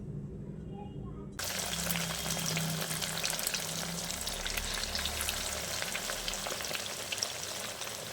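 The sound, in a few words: egg and breadcrumb coated chira cutlets frying in a kadai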